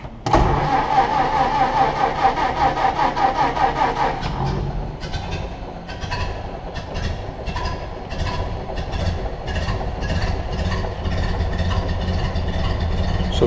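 A Ford Model A engine is cranked by its starter with the choke pulled out, catching almost at once and settling into a loud, steady idle that runs on alone with no talk.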